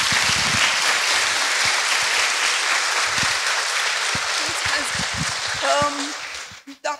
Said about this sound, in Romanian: Poate ajută niște aplauze.